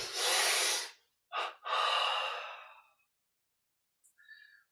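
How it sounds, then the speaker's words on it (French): Deep breaths during a yoga breathing exercise: a long airy inhale, a short sharp intake, then another long breath trailing off, close and alone, with a faint soft breath at the end. "puis on inspire"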